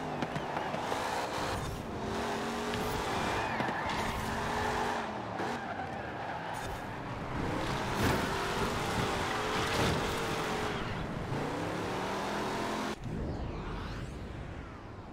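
Cars drifting in the video game Forza Horizon 4, engines revving with long wavering tire squeals that rise and fall repeatedly, loud and continuous throughout.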